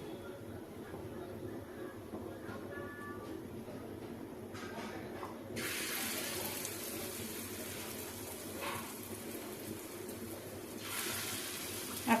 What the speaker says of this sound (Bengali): আমার তেল খুব ভালোভাবে গরম হয়ে গেছে এখন আমি মসুর ডালের বড়াগুলো ভেজে নিচ্ছি